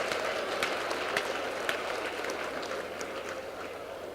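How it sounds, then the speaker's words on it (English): Guests at a bar association judicial reception applaud in a steady round of clapping, moderately loud and even, with a few sharper individual claps standing out. "Please give them all a big round of applause"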